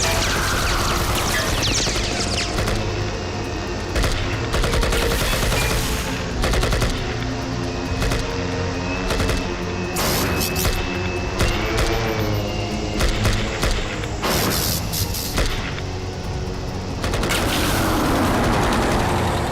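Rapid gunfire in an action scene from the science fiction film Robot Target, with dense bursts of shots and booms nearly continuous for the whole stretch, loud and close over a busy background.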